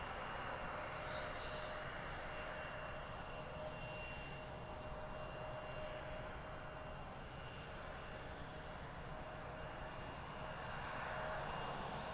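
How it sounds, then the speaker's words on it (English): An Embraer E175 regional jet taxis at Harrisburg airport, its engines giving a steady, continuous whine and roar that holds at a fairly even level throughout, with no talk over it. "It's E175. It's going to taxi all the way down to the other end of the terminal to the American gate."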